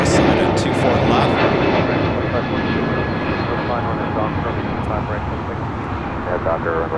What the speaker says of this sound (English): Also have Cathay Pacific 777-300ER is our next arrival on the north side at 24 left.